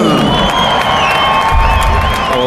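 Loud crowd cheering and applauding at the Roubaix velodrome for John Degenkolb, winner of Paris-Roubaix 2015, a dense steady roar with whoops rising toward the end.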